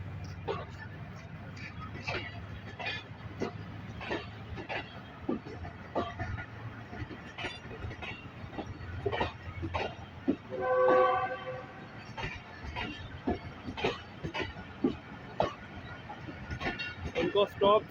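Trains pass through Drigh Road railway station with steady, rhythmic wheel clatter over the rail joints and a loud horn blast midway, heard from nearby.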